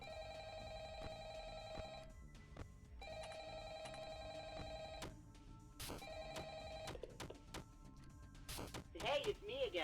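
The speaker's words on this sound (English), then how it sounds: "Anyways, final phone call." A telephone rings in a horror video game, three long repeated electronic bell bursts separated by brief pauses, followed by clatters and a short rising tone at the end.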